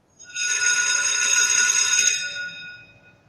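An electric bell rings continuously for about two seconds, loud and bright, then cuts off and fades.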